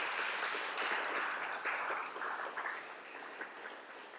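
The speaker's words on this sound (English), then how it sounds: "So another round of applause for our speakers." An audience claps for the speakers at the close of an evening talk with a Jesuit priest, a faint, even wash of applause that gradually thins out toward the end.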